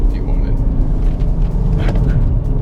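A Chevrolet Camaro 1LE engine rumbles loud and close as it downshifts through a corner, a deep steady drone with a brief rise in revs, with a voice talking over it.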